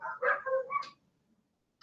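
Dogs howling at a siren, several wavering high-pitched vocal tones close by for about a second, then near silence.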